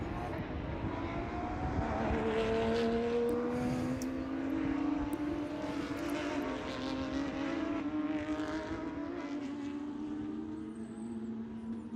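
A field of race cars circulating behind the pace car at Sebring during a club race, engines droning with rising and falling pitch as they pass, under steady commentary in gusty wind.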